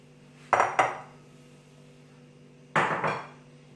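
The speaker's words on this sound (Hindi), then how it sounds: "इनको मिक्स करने के बाद अब मैं एक और बोल लूंगी।" A mixing bowl is picked up and set down on a kitchen counter while nan khatai dough is prepared: two short clattering knocks about two seconds apart, close by, with quiet room tone between them.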